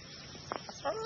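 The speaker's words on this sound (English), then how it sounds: "There's the little chickens." A few soft clucks from chickens nearby on a farm, brief and scattered over a low outdoor background.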